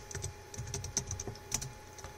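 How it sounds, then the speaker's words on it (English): Rapid, irregular clicking of keys as a command is typed on a computer keyboard, close and fairly quiet, with short bursts of keystrokes and no speech. "open the terminal and then type the command"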